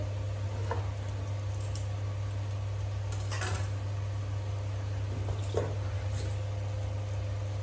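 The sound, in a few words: knife cutting eggplant into small pieces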